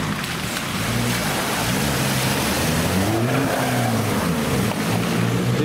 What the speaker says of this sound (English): Here comes the Land Cruiser!